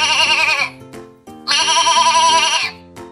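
Two loud, wavering baby goat bleats, close up, each lasting about a second with a short pause between them.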